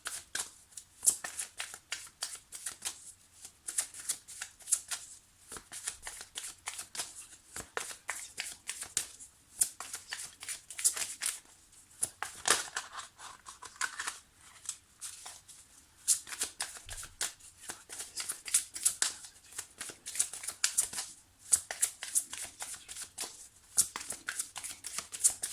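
Tarot cards being shuffled close by in quick, papery riffles and slides, repeating in irregular bursts for the whole stretch with almost no talk.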